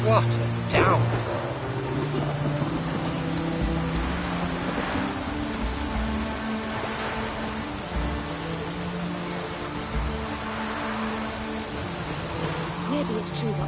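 A Witcher 3 downpour drums steadily, heavy rain hissing in a continuous dense wash with a faint low rumble beneath, while a character's voice talks intermittently over it.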